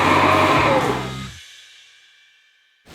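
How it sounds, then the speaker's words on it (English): A central vacuum system inside a 2003 Mercedes Sprinter 2500 T1N camper van roars loudly and close for over a second, then abruptly cuts off, leaving a fading high whine and near silence before a brief click at the end. "Here, our central vacuum system."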